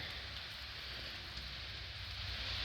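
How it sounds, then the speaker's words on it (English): Rain mixed with sleet falling outside, a soft, steady hiss of drops spattering on surfaces, faint and continuous. "it is wet, rain, kind of frozen rain, kind of sleety"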